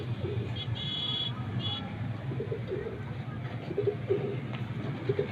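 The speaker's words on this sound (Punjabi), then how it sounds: "ਬਹੁਤ ਪਸੰਦ ਆਇਆ ਮੈਨੂੰ ਇਹ ਲਾਖਾ ਕਬੂਤਰ" Lakha pigeons coo on a rooftop in summer: soft, repeated low coos come in short bursts over steady background hum, with a faint higher chirp early on and voices talking.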